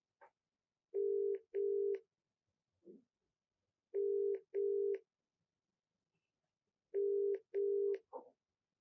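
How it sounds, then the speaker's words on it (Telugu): A telephone call rings out as it is dialed, giving three evenly spaced pairs of loud, steady ringback tones separated by pauses, with faint clicks between them. "ఒకసారి కాల్ చేస్తాను మేడం"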